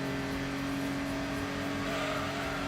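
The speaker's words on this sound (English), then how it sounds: "And now we're going to have full throttle for a while." A Suzuki or Subaru racer in Gran Turismo 2 runs at full throttle, its engine droning loud and steady at high revs throughout with a faint rising tone near the end and no talking.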